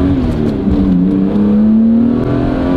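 A BMW E34 M5 with a 315 PS six-cylinder engine accelerates hard, its loud, steady mechanical note climbing smoothly in pitch for a few seconds.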